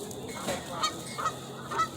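Geese honk loudly in a few separate bursts at close range as they are given food outdoors.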